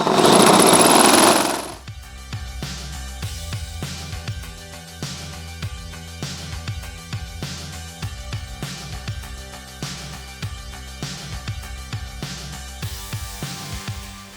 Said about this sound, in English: 7/8 inch Lennox metal cutting hole saw.